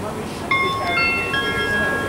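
A Southern Electrostar class 377 electric train pulls away from Portslade station platform, a steady rolling hum with high tonal whines rising from its traction motors, close by, with voices talking over it.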